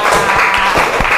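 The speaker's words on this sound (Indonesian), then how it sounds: "tepuk tangan untuk kita semua" Brief burst of clapping from a group at a religious education class on the Hajj, loud and close, lasting about a second.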